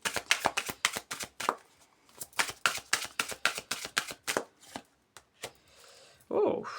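Angel oracle cards being shuffled for a reading, a quick run of crisp riffling slaps in a steady rhythm, close and clear, pausing near the end before a brief rustle.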